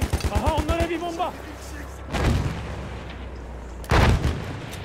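Battlefield 1 combat with heavy booming blasts, two big explosive hits landing a couple of seconds apart over rumbling battle noise, after an opening run of rapid gunfire.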